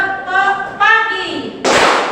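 Children clap along to a day-and-night clap chant in a classroom, sharp hand claps landing between sung chant lines, ending in a loud burst of clapping.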